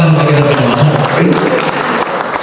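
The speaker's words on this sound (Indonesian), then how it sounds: "tepuk tangan untuk kita semua" Loud crowd applause at a farewell and welcome ceremony for outgoing and incoming heads of a district prosecutor's office, a thick sustained clatter of many hands with a low murmur beneath.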